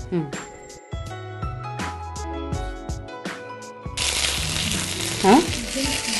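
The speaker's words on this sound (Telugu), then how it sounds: "ఈ బౌల్ తీసి కొంచెం ఆయిల్ వేసి ఇప్పుడు కరివేపాకు వేయించుకో" Curry leaves dropped into hot oil in a bowl crackle and sizzle, building to a steady, close frying hiss after earlier clinks and kitchen handling, with someone talking alongside.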